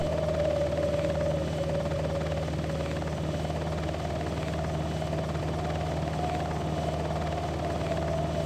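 Helicopter flying by in the video game Hostile Waters: Antaeus Rising, a steady droning rotor and engine hum that holds at an even level for the whole stretch, with no talk.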